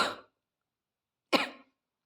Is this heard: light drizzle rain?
no